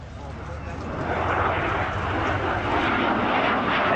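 A de Havilland Sea Vixen twin-boom jet flies low past an air show crowd at Shoreham. The jet roar is steady and loud, building over the first second and sustaining, while a commentator talks over it.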